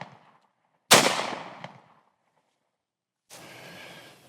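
A single loud pistol shot fired at a target on a range, with a sharp crack and ringing decay, followed by a quieter stretch of rustling noise.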